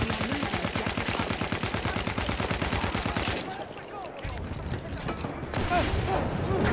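Gunfire in the Battlefield 1 video game comes as loud rapid automatic bursts for about three seconds, followed by scattered shots, mechanical clanks and battle noise.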